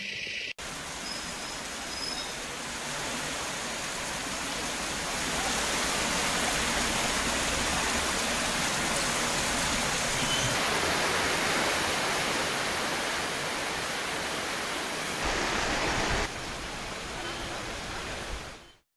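Floodwater from heavy rains pours through overflowing streams, a continuous loud rushing roar that stays broad and even for the whole stretch, with no voices over it.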